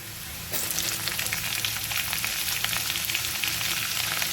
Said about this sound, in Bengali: এরপর আমি আলুটা দেবো